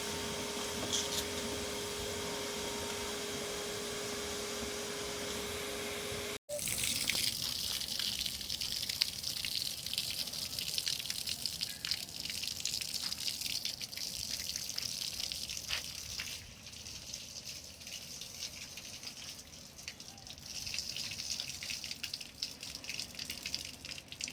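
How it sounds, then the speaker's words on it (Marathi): Blower clearing debris out of a steel-tank solar water heater during servicing: a steady whooshing rush of air and water that runs the whole time, cut by a brief break and a sharp click, then continuing. "हे ब्लोअर चालू केलेलं आहे"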